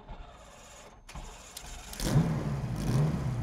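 A Ferrari 308 GTB Group B rally car engine cranks and catches with a rough, rising rumble, then keeps running unevenly at a low idle; no voices.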